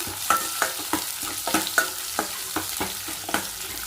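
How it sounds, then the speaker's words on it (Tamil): Onions, dried red chilies and crushed garlic sautéing in a pan, a close steady sizzle with rhythmic spatula scrapes and taps roughly every third of a second, no voices. "வரமிளகா தட்டி வச்ச பூண்டு அதுக்கு நல்லா வதந்துட்டோம்"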